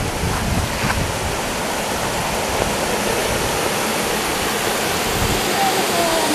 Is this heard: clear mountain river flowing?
yes